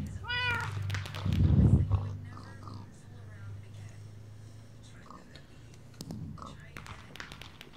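A cat meows in the Minecraft-style Block Hunt game, a few short meows heard near and clear, with a louder burst in the middle, while a person talks over and between them.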